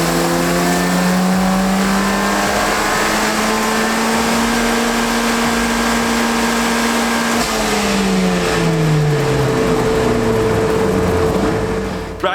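A Ford Fiesta ST Stage 3 engine revs loud and close, climbing and holding steady high revs for several seconds, then dropping and rising again, with no voices.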